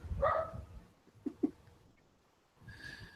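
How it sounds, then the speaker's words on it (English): Outdoors nearby, a neighbor's dog lets out a few short barks and yips in an uneven rhythm, faint and somewhat distant, with a quiet pause between bursts and no speech. "the neighbor's dog is announcing its happiness that it's outside"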